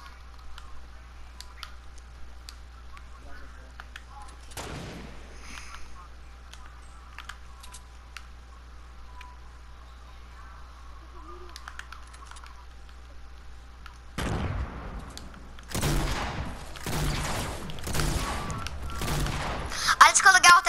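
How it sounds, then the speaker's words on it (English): A heavy shotgun fired in a video game, first one blast, then a burst of rapid loud booms near the end over a constant low game hum and background noise. "I just killed a guy with heavy shotguns"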